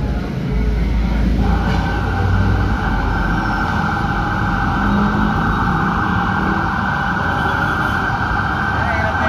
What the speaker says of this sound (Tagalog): Traffic na. May ambulansya pa.